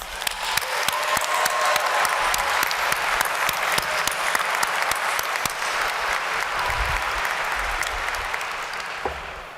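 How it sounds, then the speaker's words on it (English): A large crowd applauds loudly and steadily for several seconds at a law school commencement ceremony, the clapping slowly easing near the end. "Round of applause."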